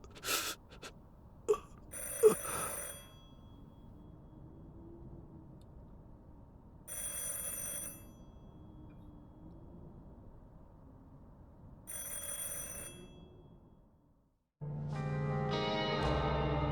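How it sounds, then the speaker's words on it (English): A telephone rings elsewhere in the house in The Incident at Galley House video game. It sounds as several short, fairly distant bell bursts separated by long quiet gaps, followed by a louder musical swell at the end. "A phone rings elsewhere."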